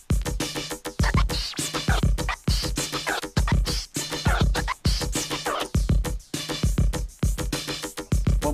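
Continuous DJ scratching on a vinyl record in a repeated two-forward, two-back pattern, dense rhythmic rubbing strokes over a beat, loud and close throughout.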